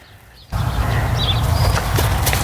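Horse hooves clopping on a trailer floor during loading practice, preceded by a quiet moment, then a loud, continuous rumble of shuffling and thumping with faint higher chirps above, close and busy.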